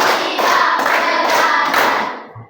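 Classroom pupils clap in unison during a clapping routine, loud close bursts grouped in a quick rhythmic pattern that stops abruptly near the end.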